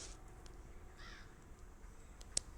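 A single crow caws once, fairly clear but not loud, over a low background hum inside the horror video game Granny.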